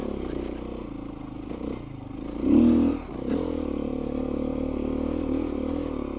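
An off-road motorcycle fitted with a Tusk Recon tire rumbles along, then the engine revs up sharply in a brief throttle burst before settling back to a steady drone, with clattering from the trail.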